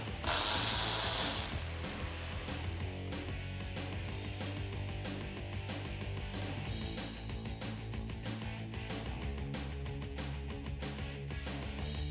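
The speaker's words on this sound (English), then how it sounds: "I'm going to use my 10mm socket to remove this nut here" A ratchet with a 10mm socket removes a nut near the rear reflector of a 2018-2021 Ford Mustang, producing continuous rapid close-up clicking with a brief louder rustle at the start.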